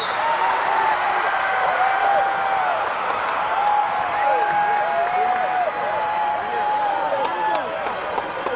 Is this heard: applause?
yes